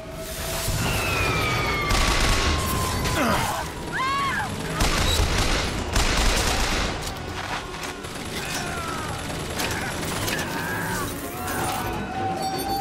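In BioShock Infinite, a gun turret fires bursts of gunshots, crashes and booms in a loud, chaotic exchange that runs throughout, with whooshing effects and someone talking over parts of it.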